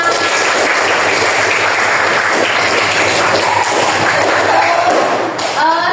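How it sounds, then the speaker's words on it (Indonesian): Loud, dense applause from a classroom group, sustained and close, with a few thumps near the end. "Tepuk tangan untuk kita semua."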